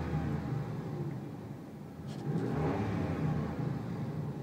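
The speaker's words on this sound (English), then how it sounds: "There's your view of it running. Let me give it some gas." Engine of a 2002 Ram Quad Cab pickup with 109,000 miles, a low steady idle rumble that swells briefly as the throttle is blipped, then settles back.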